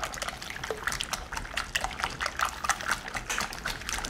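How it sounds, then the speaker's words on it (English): A whisk works through a wet sauce with extra fluid in the pan, giving a fast, continuous liquid slapping and trickling with rhythmic pulses, close and fairly loud, with no voice over it. "We're going to want to whisk that,"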